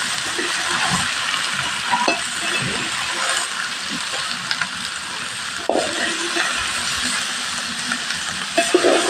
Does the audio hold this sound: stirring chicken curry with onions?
yes